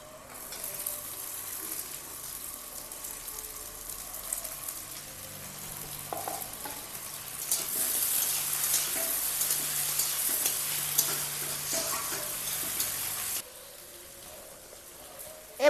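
Tomatoes added to onions in a pan fry with a soft, steady sizzle that swells louder partway through and drops back near the end, with occasional stirring noises.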